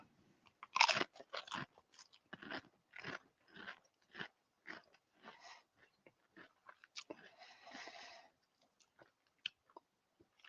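Pringles Texas BBQ Brisket potato crisps crunch up close, with a series of sharp bites followed by crisp chewing that comes in irregular bursts separated by brief quiet pauses.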